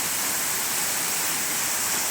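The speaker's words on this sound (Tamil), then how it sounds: "மீண்டும் ஒரு முறை 30 அடி உயரத்திலிருந்து அருவி கொட்டிக்கிறது பாருங்கள்." Waterfall at Kalasapadi near Harur, water dropping from about 30 feet, a loud, steady roar of rushing water that stays constant and fills the whole clip with no talking.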